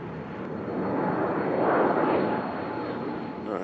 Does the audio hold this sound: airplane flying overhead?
yes